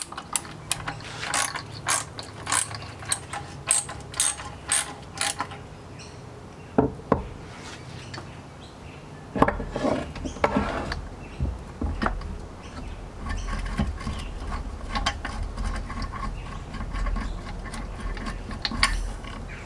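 A ratchet wrench clicking as 17mm bolts are loosened from a used steel Jeep JK bumper, in rapid bursts of close, sharp ratcheting with occasional knocks and metal clunks, no talking.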